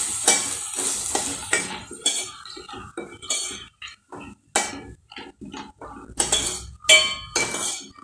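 Sprouted whole moong and dill leaves being stirred in a pan, with repeated scraping strokes and clinks of a spoon against the metal, irregular and close.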